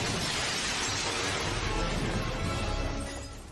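Glass shatters loudly as someone crashes through a window, a dense, sustained crash of breaking shards that fills the clip before tapering off at the end.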